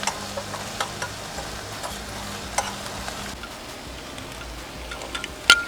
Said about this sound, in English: Now we want to cook this until they begin to soften.